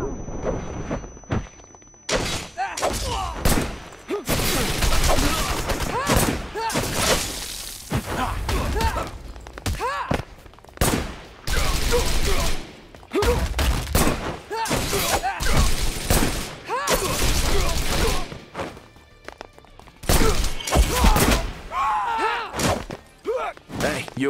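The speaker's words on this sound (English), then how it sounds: "Grenade!" Gunfire and heavy thudding impacts erupt in the video game Wanted Dead. Loud bursts and booms come in rapid clusters with brief lulls between them, and voices call out among the firing.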